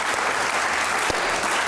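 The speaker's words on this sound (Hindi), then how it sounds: "तालियां बजाइए कुछ मुस्कुराइए" Strong, sustained applause from the audience at a poetry recital, many hands clapping in a thick, even wash that holds steady throughout.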